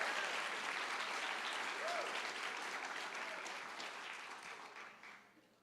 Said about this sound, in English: Let's give one more round of applause for that amazing accomplishment